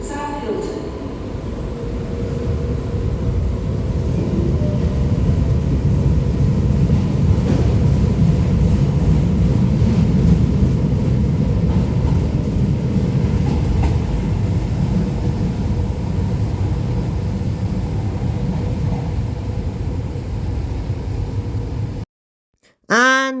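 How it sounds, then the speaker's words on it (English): An older Tyne and Wear Metro train departs Sunderland Station heading north toward Newcastle Airport, its loud, sustained rumble and roar holding for about twenty seconds before cutting off abruptly. "take a look at the same Tyne and Wear Metro train, departing Sunderland Station, heading north to Newcastle Airport"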